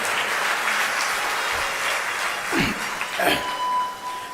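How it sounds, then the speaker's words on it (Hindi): Audience at a Hindi religious discourse claps in a short burst. The applause is moderate and somewhat thin and builds slightly toward the end, with a voice briefly audible underneath. "तो तालियां बहुत कमजोर बजाते हैं"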